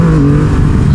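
A Triumph motorcycle at full throttle gives a loud, close engine roar that climbs steadily in pitch across one continuous second, with no talk.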